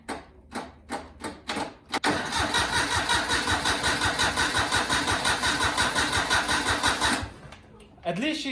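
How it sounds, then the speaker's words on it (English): A Daihatsu Hijet Japanese pickup truck engine cranks over on a jump-started battery, first in a few short separate bursts, then in one long steady rhythmic churn of about five seconds that stops abruptly, with talk around it. "At least she's turning over, guys."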